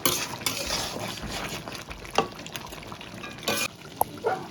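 Mutton curry is stirred in a pan, a few close scrapes and metal clinks over a low bubbling sizzle, brief and uneven, with no voices.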